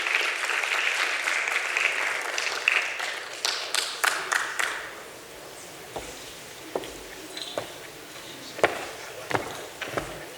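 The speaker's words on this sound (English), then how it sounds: "Let's give him a round of applause as he makes his way to the stage." An audience at a speech event applauds as a speaker walks to the stage. Dense clapping for several seconds thins into scattered individual claps and footsteps.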